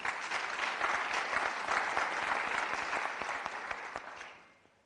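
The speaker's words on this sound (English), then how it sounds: "Can you please give a round of applause for all the panelists?" Audience applause for the panelists at a forum on comprehensive sexuality education, a steady wash of many hands clapping close by that keeps up evenly, then thins and fades out at the end.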